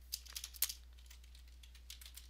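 Light tapping on a computer keyboard, a few quick irregular clicks with a louder cluster early on and softer scattered taps after, close and fairly quiet with no talk.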